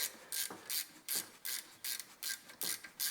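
A ratchet wrench loosens a bolt on the rear brake caliper of a BMW E90 3 Series, giving eight or nine quick bursts of bright ratcheting clicks in an uneven rhythm, close and fairly quiet with no talk.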